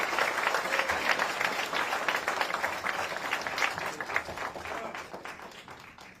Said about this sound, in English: let's give the entire clubs and their leadership team and everybody on the front lines a round of applause